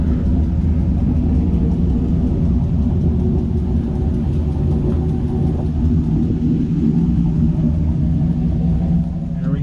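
A Quadrasteer truck is driven down off a tilted trailer, producing a loud, continuous low engine rumble and road noise at close range with no talking.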